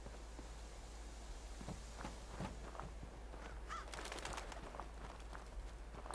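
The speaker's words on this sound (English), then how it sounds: "Crows." Crows cawing in the video game Fallout 4, several harsh calls scattered over a low steady hum, moderately near and fairly quiet, with some footstep-like scuffs and no talking.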